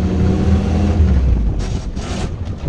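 Vintage Jeep Willys with no gearbox synchro pulling away, its engine a loud, close, rough low rumble that builds and then eases with a brief hiss, no talk over it.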